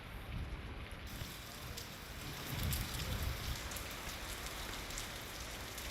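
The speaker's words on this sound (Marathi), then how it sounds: "विजांच्या कडकडाटासह जोरदार मुसळधार पाऊस पडतोय" Heavy unseasonal downpour drums on surfaces in a dense, continuous rain roar, with a low rumbling swell midway that may be distant thunder; no voices.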